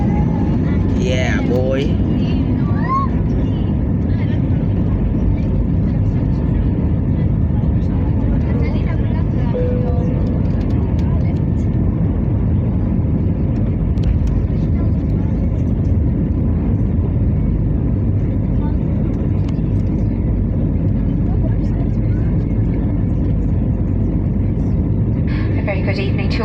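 A constant, heavy engine roar fills the cabin of a British Airways Airbus A321neo departing Heathrow, with a low rumble throughout and a voice speaking briefly.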